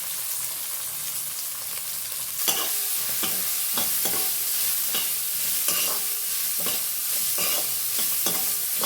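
Grated coconut roasting in a pan with crushed ginger and garlic over a wood-fired stove: a constant sizzle broken by a series of sharp, regular scraping stir strokes, close and loud, with no talking.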